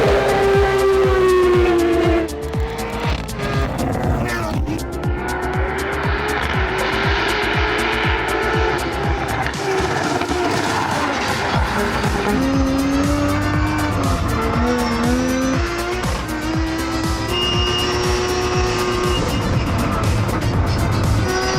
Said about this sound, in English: I am about to race up Pikes Peak